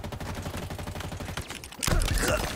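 Rapid pistol fire in the shooter game Halo Infinite, a steady stream of sharp repeated shots through the first half, then a louder burst of chaotic combat noise near the end.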